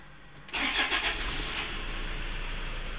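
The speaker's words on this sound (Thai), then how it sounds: "เครื่องยนต์ติด" A car's engine starts at the press of a push button with the brake held, a short cranking catch followed by a steady, fairly close idle.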